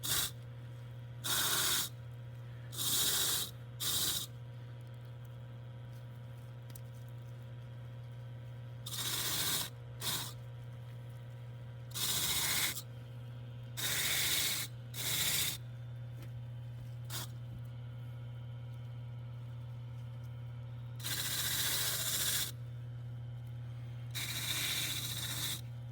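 A wire wheel brushes the metal face of a sculpture around the eyebrows: repeated short bursts of harsh, bristly scrubbing come in uneven clusters over a constant low electrical hum, with quiet pauses between strokes.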